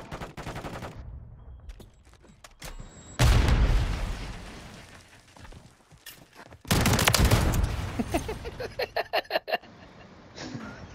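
Shotgun blasts in an online multiplayer shooter video game, two heavy booming bursts a few seconds apart, then a quick rhythmic string of sharper shots, loud and close.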